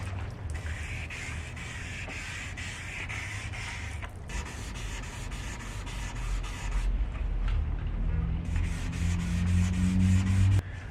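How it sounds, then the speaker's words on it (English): Wet-dry sanding with 800 grit sandpaper over an oxidized patch on the front fender of an 8th gen Honda Civic, a steady close scrubbing rasp that continues throughout without pause and grows slightly louder toward the end. "I use the 800 grit wet dry sand sandpaper, and I've just covered this area where it's oxidized here"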